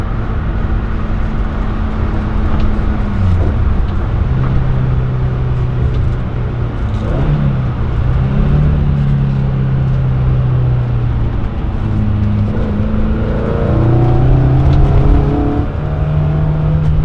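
A 1972 BMW 2002tii Alpina A4 cruises in fifth gear at about 55 mph and 3,000 rpm, giving a steady, loud engine drone with road and wind noise from inside the cabin and slight shifts in pitch.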